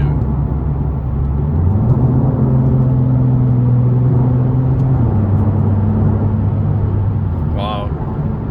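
A Ford Mustang engine hums and rumbles steadily while driving, its pitch shifting as it changes gear, loud and close throughout.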